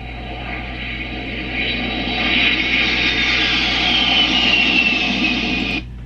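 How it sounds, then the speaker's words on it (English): A steady jet airplane roar with a high whine rising in loudness and sustained throughout, cutting off abruptly near the end. "that's your airplane sound."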